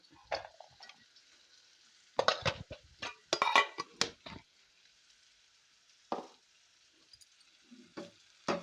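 Cashew nuts fry in a pan for coriander rice, with soft crackles and scattered scraping and clattering bursts of a spoon stirring against the pan, close but fairly quiet, with no talk.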